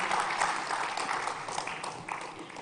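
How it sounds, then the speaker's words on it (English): An audience at a tech talent conference hall welcoming a speaker to the stage with a continuous wash of applause, steady and moderately loud, fading slightly toward the end. "Can we give a huge round of applause and welcome her on the stage"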